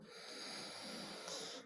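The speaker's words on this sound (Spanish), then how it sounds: "Vamos a tener una respiración profunda y suave." A deep, gentle inhale during a guided relaxation breathing exercise, a soft steady airy rush that holds for nearly two seconds and swells slightly near the end, heard alone without talk.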